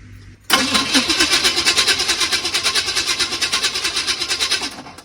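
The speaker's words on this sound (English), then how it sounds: "Let it crank again." A 1980 Chevy K30 Squarebody truck engine cranking on the starter, a loud close rhythmic churning pulse with an uneven galloping beat from a low-compression cylinder, running for about four seconds and then stopping.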